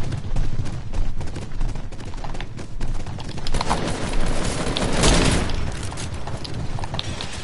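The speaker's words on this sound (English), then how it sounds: "I killed them with my sniper." Sniper rifle fire in a video game comes as loud, dense, continuous bursts of shots and booms that blend into a rolling barrage, swelling and fading slightly without pause.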